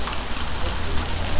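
Steady rain falls on a town street in Bir Jdid, a continuous close wash of patter and splashing with a faint voice speaking over it.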